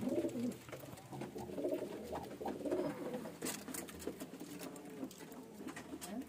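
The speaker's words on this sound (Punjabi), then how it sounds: "ਐ ਗੋਲਡਨ ਕਬੂਤਰ ਮਾਸ਼ਾਅੱਲਾ ਬੜਾ ਸਪੈਸ਼ਲ ਜੇ" Golden pigeons coo steadily in a breeder's loft, a soft, continuous low burbling with light fluttering patter, fairly faint and with no talking.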